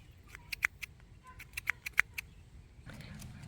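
Scissors snip rosella fruit repeatedly close by, a series of sharp, quiet clicks in irregular rhythm, followed by soft rustling.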